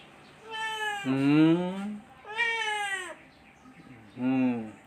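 A cat begging for bread gives three drawn-out, whiny meows close by, each rising and falling, with short pauses between them.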